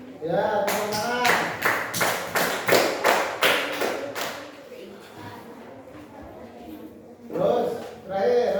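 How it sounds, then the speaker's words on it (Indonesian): A classroom of children claps in unison, about eight sharp, loud, evenly spaced beats, followed by quieter talking and a brief burst of voices at the end. "Ya, tepuk tangan."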